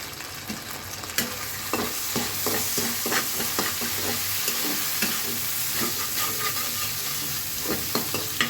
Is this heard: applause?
no